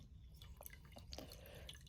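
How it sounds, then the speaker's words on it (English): Juice from a fresh-cut lemon is squeezed into a container of water, making a few scattered close drips and small splashes over a quiet background. "And I am going to squeeze the lemon"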